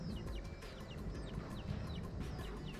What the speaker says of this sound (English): We were with the chicken family.